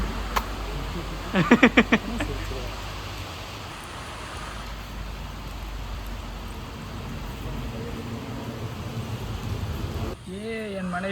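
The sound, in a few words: rain falling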